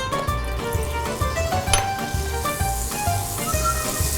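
Olive oil and butter sizzling in a Dutch oven, a steady crackling hiss with a few light clinks of a utensil against the pot.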